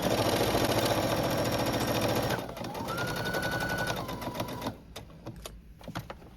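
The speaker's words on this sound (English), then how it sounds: "So I'm just going to give it a sew, back stitching at the beginning and the end." A sewing machine stitches a denim sweetheart dress, backstitching at the start: a fast, steady mechanical whirr runs close and loud for a couple of seconds, then slows and softens before stopping, leaving faint scattered clicks.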